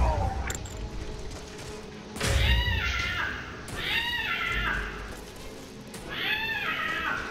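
Snarling, yowling big-cat calls from a sabercat in Skyrim come in three rising-and-falling bursts, each a second or so long, over a rumbling game soundscape with faint background noise.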